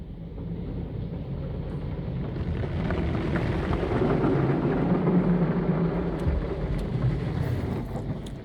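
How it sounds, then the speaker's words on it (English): Automatic PDQ Surfline car wash applying hot wax: a steady, enveloping rumble and wash of spraying sound fills the car interior, swelling slightly mid-way and holding loud throughout with no talk. "So now I'm getting a hot wax application."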